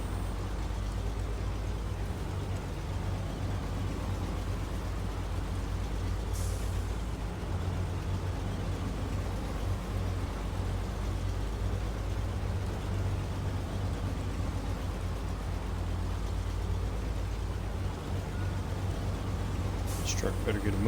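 A heavy truck in SnowRunner drones on with a steady, low engine rumble across the whole stretch, unchanging and moderately loud, with a faint hiss near the start and another at the very end.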